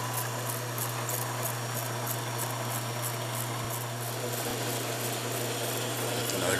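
A motorized homemade pottery kickwheel with an idler pulley and gear-reduction shaft runs smoothly, giving a constant low mechanical hum with a faint ticking rhythm, steady and close, with nobody speaking.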